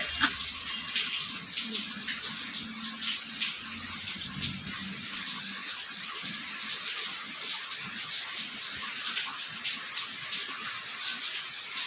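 Rainwater gushing steadily into a home courtyard during heavy rain, a constant close splashing rush of flowing water with no voices.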